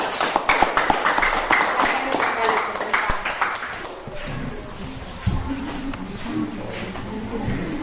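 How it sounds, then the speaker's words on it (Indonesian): Classroom applause for a discussion group, a burst of clapping and tapping from students filling the room in the first seconds and then fading into shuffling and murmuring voices. "Mari kita beri aplaus untuk kelompok Melati yang sudah membacakan hasil diskusinya"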